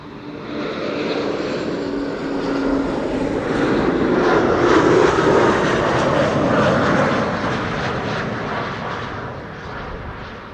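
KLM Embraer 190 airliner arriving at Amsterdam Schiphol Airport, a loud continuous jet engine roar that swells to a peak midway and then slowly fades as it passes, with no talking.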